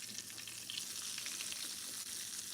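Chicken sizzling steadily in hot lard, a continuous crackling fry with no voices.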